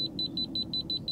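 A handheld non-contact voltage detector held near an electrical cable emits rapid, repeated high-pitched double beeps in a steady pulsing rhythm, close and clear.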